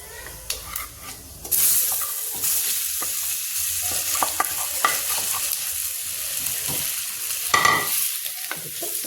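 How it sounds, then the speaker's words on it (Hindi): Drumsticks frying in oil with cumin and bay leaf in a kadhai give a steady sizzle, with stirring and scraping clatter and a few louder bursts throughout. "अब इधर कढ़ाई में डालते हैं तेल, जीरा, तेज पत्ता और ये ड्रमस्टिक"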